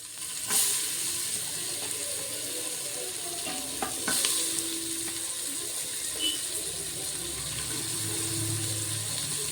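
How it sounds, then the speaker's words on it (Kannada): Onions fry in a pan for palak rice, a soft continuous sizzle punctuated by a few sharp scraping stirs and clinks, close and moderately quiet with no talking. "ಈಗ ಇದಕ್ಕೆ ನಾನು ಈರುಳ್ಳಿ ಹಾಕ್ತಾಯಿದ್ದೀನಿ"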